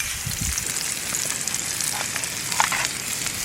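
Butter, ghee, sizzling in a cold-handle pan on a bushcraft camp stove outdoors, a steady close crackle and hiss with small pops throughout, no talking.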